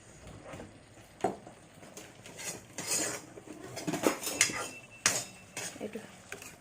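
Metal spoon clattering and clinking against cooking pots while preparing a vegetarian taro and dal dish, a series of irregular close knocks and scrapes, some sharp, over faint background noise.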